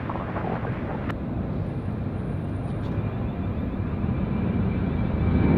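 China Eastern airliner bound for Shanghai taking off from runway 34 at Sydney Airport with a slight tailwind, a broad distant jet roar that swells steadily toward the end.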